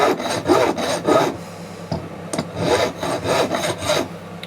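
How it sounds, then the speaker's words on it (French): A coarse metal file rasps along the edge of a turquoise pendant in loud, rhythmic back-and-forth strokes, repeated in two sets of several passes with a short pause between them. "Là je viens limer le bord du pendentif"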